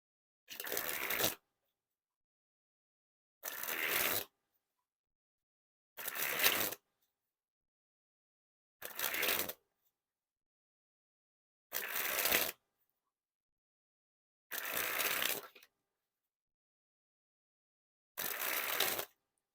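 Seven separate bursts of a Rouge Amethyst purple edition deck of playing cards being sprung from hand to hand, each a crisp riffling flutter about a second long, evenly spaced with silence between, close and clear with no talking.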